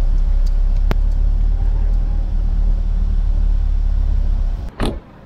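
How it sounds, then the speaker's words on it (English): Rush-hour traffic in Manila, heard from inside a vehicle as a loud, continuous low engine rumble with a few short creaks and a brief sharp squeal near the end. "it's a rush hour traffic now, so traffic in Manila is not the best"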